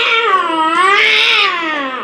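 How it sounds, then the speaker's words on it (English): A drawn-out, wavering cat meow fills the whole two seconds, loud and close, rising and falling in pitch, with no talk over it. "that'd be the worst engine ever if it sounded like a cat meowing"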